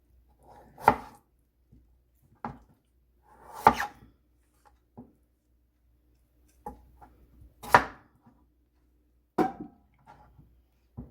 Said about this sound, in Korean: 껍데기를 저는 이렇게 편편한 면을 도마에 놓고 껍데기를 이렇게 잘라줍니다.